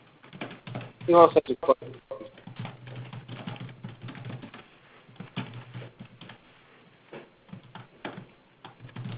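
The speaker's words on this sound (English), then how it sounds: "I love hearing the typing noise." Computer keyboard typing on an online video call, with uneven bursts of key clicks in the background while a person briefly speaks near the start.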